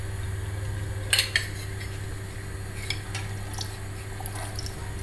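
An egg is whisked with lemon juice in a bowl for a soup dressing: a few sharp utensil clinks against the dish, then quieter scattered taps and stirring, close by and without talk.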